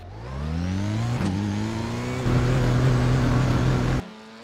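A Formula 4 race car engine in the iRacing simulator, driven at the Léman circuit, revs up alone with steadily rising pitch, holds a loud strained note, then cuts off abruptly.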